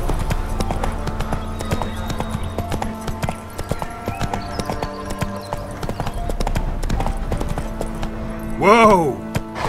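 A horse gallops in The Witcher 3 with rapid, rhythmic clip-clopping hooves, loud and close throughout, and a short whinny near the end.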